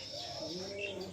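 Pigeons, including Teddy and Dabbala chicks, coo softly up close, a few low throaty warbling calls with faint chirps mixed in, fairly quiet.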